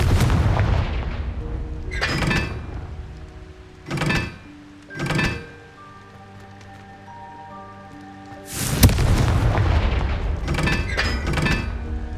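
Confringo blasting spells from the Hogwarts Legacy video game go off as loud booming explosions: two at the start, two shorter blasts in the middle, then a big crackling burst near the end, over a continuous low rumble with tonal game music.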